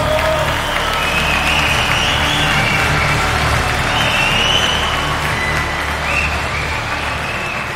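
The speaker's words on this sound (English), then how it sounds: "Applaudissements, merci." Loud, sustained applause and cheering from a large crowd fill the arena at the Teqball World Cup opening show, a dense steady roar that holds without pause, with scattered whistles rising above it.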